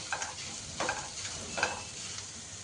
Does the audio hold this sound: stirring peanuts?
yes